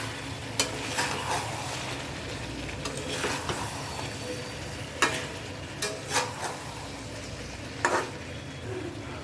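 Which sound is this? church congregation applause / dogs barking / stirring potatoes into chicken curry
stirring potatoes into chicken curry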